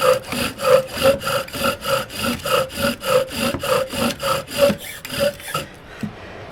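A bow drill spins a wooden spindle in a notch for a friction fire, making rapid, rhythmic back-and-forth rasping strokes, about two per second, close and steady before stopping near the end.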